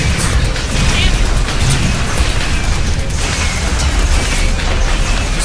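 Shotgun blasts in an online video game come as repeated loud bursts amid dense, noisy game effects, with pops and crashes close together over several seconds.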